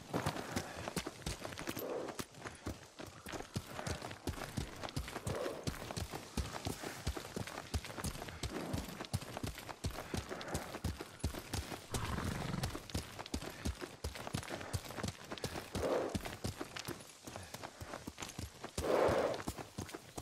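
Horse hooves clip-clopping steadily as a rider flees, with a regular close rhythm of hoofbeats and occasional whinnies.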